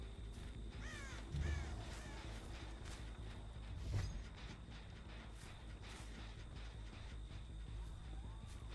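A crow caws in a video game, a few hoarse calls standing out over steady game background noise, with no talk over them.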